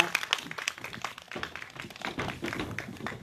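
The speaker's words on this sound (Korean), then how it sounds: "다시 한번 우리 김상환 씨께 큰 박수 부탁드리겠습니다" An indoor audience at a community candlelight gathering breaks into scattered, uneven clapping, near and moderately loud, swelling and thinning over a few seconds.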